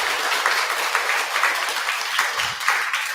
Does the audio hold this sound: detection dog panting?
no